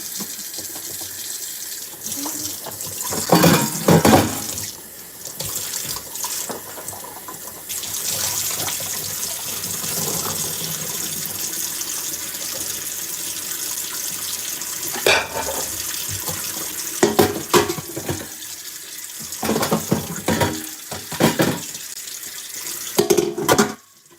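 A water tap runs while something is washed under it, a continuous gushing stream punctuated by louder splashes and clatter as items move in the sink, close by.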